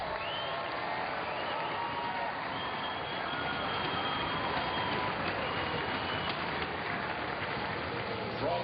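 Spectators at an All-Star Championship battle event applaud and cheer in a dense, steady roar of clapping and crowd noise that holds evenly throughout.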